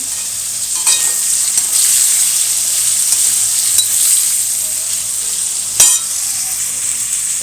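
A paste of cashew, raisin, tomato and green chili frying in a pan, a loud continuous hissing sizzle broken by occasional scraping stirs and one sharp clatter, no talking.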